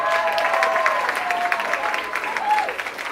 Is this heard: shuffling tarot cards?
no